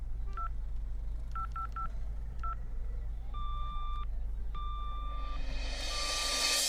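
A telephone number is dialed as a quick run of touch-tone beeps, then two longer paired tones, heard alone over a steady low hum with a rising hiss at the end.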